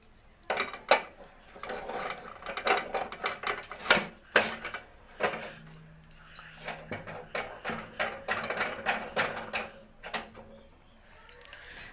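Metal clicks and ratcheting scrapes of a slide wrench loosening a fitting on an LPG gas stove, close and irregular, with sharp taps and a brief low hum midway.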